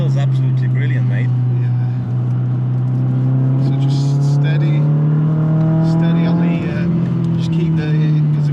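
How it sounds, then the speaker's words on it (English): The engine of a Renault Clio Trophy, one of 500 built, drones loudly and steadily in a rising whine from inside the car as it revs out, with engine harmonics climbing gradually and faint background rattles throughout. "I love how quick it revs out."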